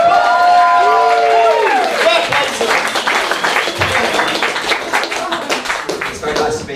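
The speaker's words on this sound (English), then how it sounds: "So give them a fucking round of applause." Comedy club audience breaking into applause, dense clapping and some cheering that carries loudly throughout, mixed with crowd noise and a few voices.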